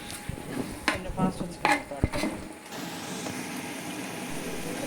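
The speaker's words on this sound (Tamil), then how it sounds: "மூணு கிலோவுக்கு ஐநூறு எம்எல் தயிர் எல்லாம் போட்டு நல்லா மிக்ஸ் பண்ணிக்கிடலாம்" Vegetables, masala and yogurt being stirred together in a large batch of veg biryani for thirty people, giving a few soft scraping and clinking strokes in the first two seconds, then a steady quiet kitchen hiss.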